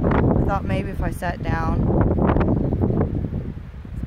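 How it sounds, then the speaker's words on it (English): Strong gusts of wind roar steadily across an outdoor microphone near a pallet fence, a broad rumbling buffet running throughout under a person talking. "Forgive the wind, it's super windy."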